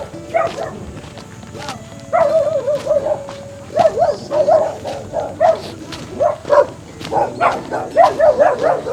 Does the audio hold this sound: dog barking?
yes